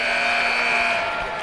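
A game-ending buzzer at a high school basketball tournament semifinal between Greenwood and Whiteland: one loud, steady electronic tone held for about a second over crowd noise, then cutting off.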